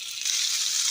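Beans tipped into a hot pan of butter and garlic for a Moroccan turkey and vegetable dish, giving a steady, close sizzle that swells slightly after the first moment and holds evenly with no talking.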